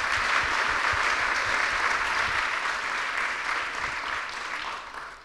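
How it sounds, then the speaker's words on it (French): Sustained audience applause fills a lecture hall, dense and steady, gradually thinning and fading toward the end. "Tu auras eu tes applaudissements avant"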